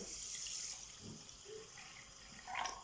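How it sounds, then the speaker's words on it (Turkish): Water is poured into a bowl of rice to wash it for meat pilaf, a faint, steady splashing pour heard close by with no talking. "Üzerine su ilave edelim."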